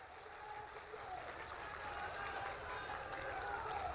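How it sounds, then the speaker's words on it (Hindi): Audience clapping at a Madhya Pradesh government event with the Chief Minister, a dense, steady wash of many hands that holds fairly quietly and evenly throughout, with some crowd murmur mixed in. "चलो बजाओ ताली।"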